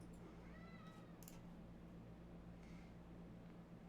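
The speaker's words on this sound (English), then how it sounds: "Our cat's currently screaming, if you heard that in the background." A cat yowls faintly in the background, a thin drawn-out wail rising over a steady low hum.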